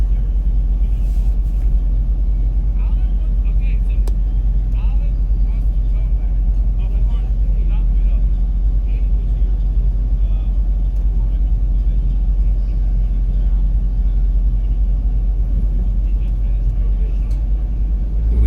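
A 2001 Ford SVT Lightning pickup drives on the Homestead-Miami NASCAR track with a constant deep engine and road rumble from inside the cab, while a voice talks over it.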